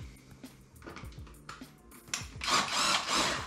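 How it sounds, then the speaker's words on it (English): Cordless drill fitted with an Allen key bit backing out bolts on the side cover of a 2022 Kawasaki KLR650, short bursts of whirring with clicks early on, then a louder sustained spin near the end. "I got the drill out with an Allen key bit in the drill."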